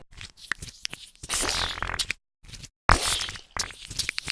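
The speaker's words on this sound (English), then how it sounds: "Now listen to those sweet new explosion sounds for a while." Bursts of crunchy, noisy video game explosion effects and crackles, several in quick succession with brief silent gaps, fairly loud and textured like synthetic explosions.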